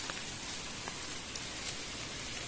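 Soft, steady rain pattering continuously during a heavy downpour, with a few sharper drips popping out now and then; quiet and even throughout.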